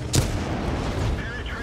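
A single tank gun shot in a video game, one sharp loud boom at the start followed by a rumbling decay and steady engine-like background noise.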